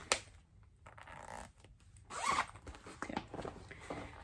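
A zipper on a zippered envelope being pulled open or shut, close up with short rasping runs and some paper rustling, quiet with no talking.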